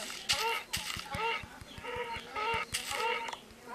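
Chickens cluck repeatedly in Minecraft, a string of close, bright clucking calls over steady low footstep-like ticks, with no one talking over them.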